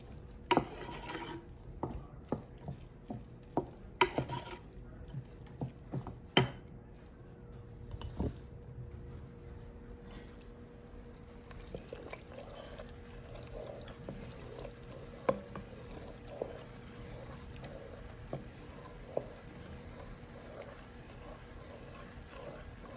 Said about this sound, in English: So I'm just going to keep watching this and stirring this so that it doesn't burn.